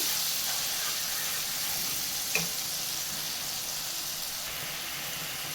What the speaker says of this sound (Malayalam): ഈ മസാല നമുക്കൊന്ന് വഴറ്റിയെടുക്കാം.